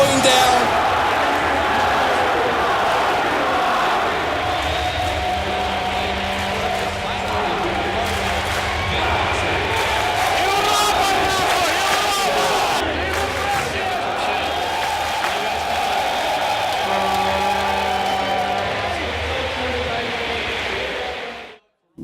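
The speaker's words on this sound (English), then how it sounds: "Standing ovation from the crowd." Arena crowd at The International 2012 Dota tournament cheers in a dense, sustained roar, with a commentator talking over the noise until it cuts off at the end.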